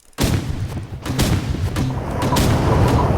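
Artillery fire in a video game: a heavy boom at onset followed by continuous rumbling gunfire and blasts, loud and dense throughout.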